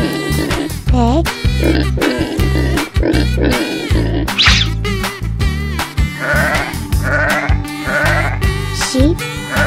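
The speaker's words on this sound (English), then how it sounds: "sheep" Sheep bleat repeatedly, loud and wavering, over continuous rhythmic background music in a children's farm-animal sound piece, the calls coming in several separate bursts across nearly ten seconds.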